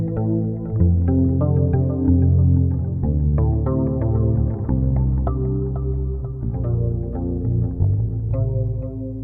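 Electric bass played through a Darkglass Anagram ambient preset with delay feeding reverb, sustained notes and chords blooming into a wide, washy tail, loud and continuous without talk.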